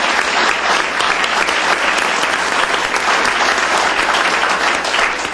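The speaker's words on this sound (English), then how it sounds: "let's give everybody a big round of applause" A room at a county commissioners court meeting breaks into a sustained, dense round of clapping that holds at an even level throughout, with no speech over it.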